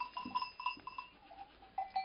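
Goats on a village goat farm bleat in several short, faint calls spaced irregularly against a quiet outdoor backdrop.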